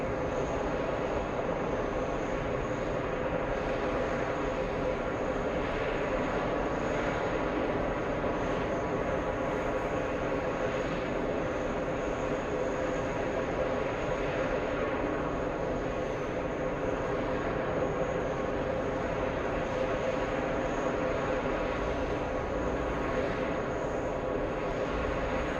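Amazon Boeing 767 freighter at JFK airport, a steady loud jet engine roar held without a break, broadband and droning throughout.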